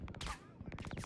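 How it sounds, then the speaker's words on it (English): Rapid bursts of gunfire in Star Citizen crackle in quick succession, faint and distant, with a short pause between volleys. "Hearing gunfire."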